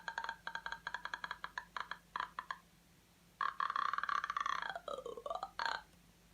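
A voice imitates the creepy croaking noise made by the ghosts in the Japanese horror film Ju-On (The Grudge): a run of short rattling clicks, then a sustained, wavering groan that bends down and back up, close and alone.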